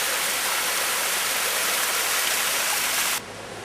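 Loud, steady rush of a waterfall at the bottom of a steep bush track in the Northern Territory near Darwin, a dense broadband roar that holds constant and then drops slightly in level just before the end.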